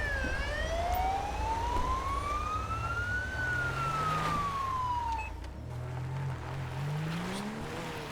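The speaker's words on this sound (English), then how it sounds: "Cut our sirens off so I can hear myself think for a bit" A wailing police siren in GTA 5 with an Australian police mod sweeps slowly up and down in pitch over the rumble of a driving car engine, loud and close throughout.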